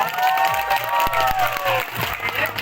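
Wedding guests applaud the two sons-in-law: a dense, close burst of steady clapping from a crowd, mixed with scattered shouts and voices throughout.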